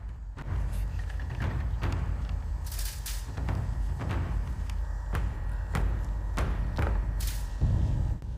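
A triple-limbed ox bow is shot repeatedly outdoors, each release a sharp thump heard at a steady pace over a constant, noisy background roar.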